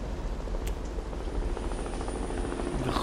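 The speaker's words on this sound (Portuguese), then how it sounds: "Aqui um helicóptero" Steady helicopter rotor and engine drone in the war video game Warfare, set in a desert at Najran during a Marine scout patrol, a continuous loud broadband hum throughout with no speech.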